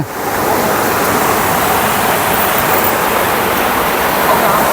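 Steady, loud rushing water pouring continuously over a weir on a stream swollen by heavy rain, a broad roar with no pauses and no voices.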